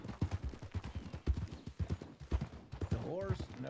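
Horse hooves clip-clop at a steady walking pace in Red Dead Redemption 2, close and rhythmic, with a brief whinny near the end; people talk throughout.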